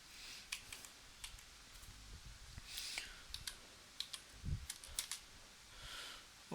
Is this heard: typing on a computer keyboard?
yes